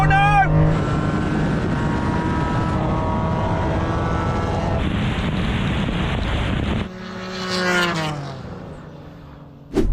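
A Nissan Skyline R34 and a Honda NSX in a straight-line drag race, with high-revving engines climbing through rising gear pitches, a roaring pass, then a fading drone with another engine note returning; wind buffets the microphone.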